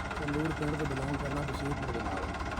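A Farmtrac tractor engine idles with a steady, rapid knocking chug, while voices talk faintly over it.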